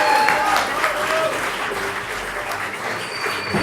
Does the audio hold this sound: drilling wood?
no